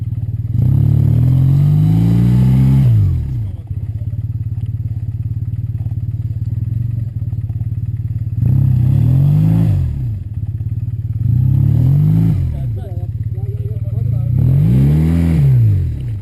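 A motor vehicle engine revved hard with the throttle open in four loud rising-and-falling bursts, each swelling then dropping back to a rough idle, with people talking nearby.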